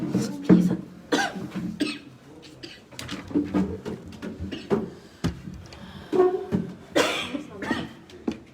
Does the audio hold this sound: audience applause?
no